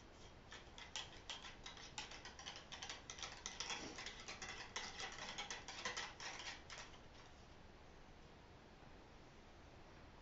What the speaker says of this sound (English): I'm going to take a dry patch, and I'm going to run a few dry patches down it